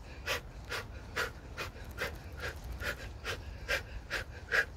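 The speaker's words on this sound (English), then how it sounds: "There goes that breathing, that gym breathing." Rhythmic heavy panting during a cardio workout set, about a dozen sharp breaths at an even pace, close and fairly quiet with no speech.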